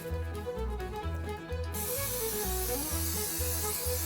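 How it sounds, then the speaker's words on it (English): A steady, close hiss of aerosol cooking spray coating a bundt pan for a few seconds over a soft, repetitive musical background. "We want to make sure to spray that good so it doesn't stick."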